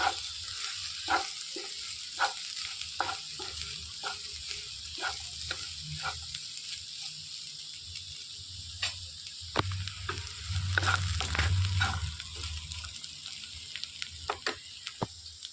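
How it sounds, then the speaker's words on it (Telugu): Broad bean pods fry with grated coconut in a pan, a soft continuous sizzle broken by repeated scraping stirs, with a louder burst of frying near the end and no talking. "తురుము తీసుకున్న కొబ్బరిని పైన చల్లేసుకోవాలి. మొత్తం ఒకసారి కలిపేసుకోవాలి."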